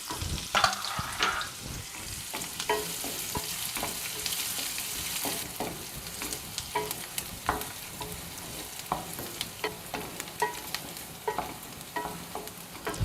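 Chopped onion and green chilies frying in a pan in a Tamil home kitchen for chitrannam, with a steady close sizzle and repeated scraping stirs throughout and no talking.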